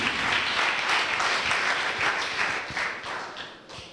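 A church congregation at a French-language Sunday worship service applauds the Lord with steady, dense clapping from a large crowd, which thins and fades toward the end.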